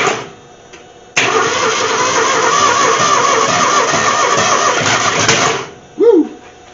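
The choked engine of the junk boat Forked Falcon sputters, catches and roars into a loud steady run for several seconds, then cuts out, followed by a short squeaky sound.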